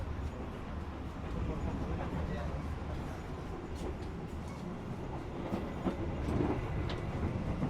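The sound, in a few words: riding the Argo Wilis passenger train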